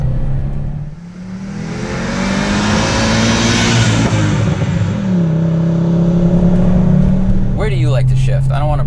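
A high-clearance car's engine revs while driving, its loud tone climbing and then settling back, with road and wind noise under it, and a brief voice near the end.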